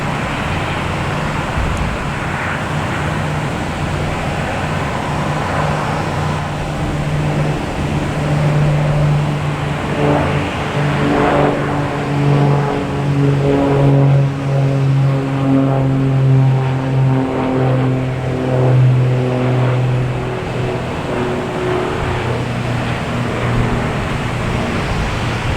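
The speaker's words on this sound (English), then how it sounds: "taking off, we have another Cessna. Cape Air heading to Bar Harbor. 402. Just going to go over our heads again" A Cape Air Cessna 402 twin-propeller plane takes off from Boston Logan and passes overhead, its steady droning buzz with pulsing harmonic tones swelling louder mid-pass and holding under background traffic noise.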